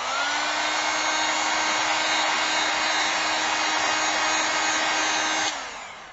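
A heat tool blows a steady, loud whoosh over acrylic paint on a small skull canvas, running unbroken for over five seconds before cutting off and winding down.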